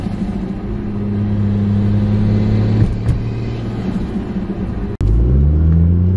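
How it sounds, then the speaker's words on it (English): A turbocharged Ford Falcon engine rumbles and revs loudly and up close, holding a steady low drone before a sharp break near the end and a fresh rise in pitch as it revs again. "turbo sounds really nice too"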